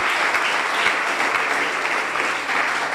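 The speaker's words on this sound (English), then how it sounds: "a big round of applause to our speakers" Conference audience at an energy-policy event applauding the presenters, a sustained, even wash of many hands clapping with no speech on top.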